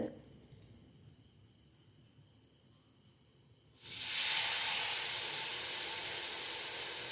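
Food dropped into hot oil sets off a loud, sudden sizzle after a few quiet seconds, then a steady bright frying hiss that holds strong to the end.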